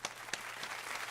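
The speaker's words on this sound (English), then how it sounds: "I love the clapping over there." Audience clapping after an a cappella R&B performance, a burst of applause with a couple of sharp close claps over a steady wash of hands, moderately faint.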